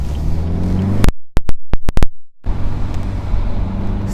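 A BMW 4 Series convertible drives around Miami with steady road and engine noise. The noise drops out for about a second into a few sharp clicks, then returns just as loud.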